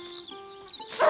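A dog in the video game A Plague Tale: Innocence gives a single short, sharp bark near the end, after a moment of faint whining tones.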